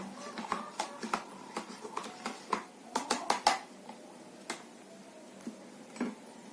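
Rapid light clinks and taps of a spoon against a glass as detergent is stirred into water, an irregular series of sharp ticks that bunch together and then thin out, with no voices.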